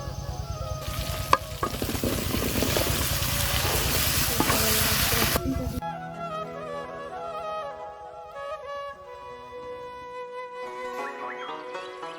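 Okra and potatoes with fish frying in a pan with turmeric, coriander, chili powder and salt, a loud dense sizzle with stirring scrapes for about six seconds, then fading to a quieter crackle.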